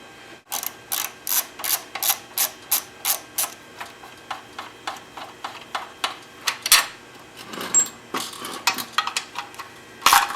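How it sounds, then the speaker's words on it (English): A ratchet wrench backs out half-inch bolts on a vertical-shaft small engine, giving a run of quick, evenly spaced clicking bursts up close, followed by slower, irregular clicks and a few metallic taps. "removing these 3 half-inch bolts"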